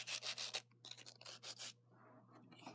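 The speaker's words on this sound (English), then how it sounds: "I'm going to be filing my nails" Fingernails filed with a nail file make quick, rhythmic scratchy rubbing strokes, close but faint, with a short pause and a low steady hum behind them.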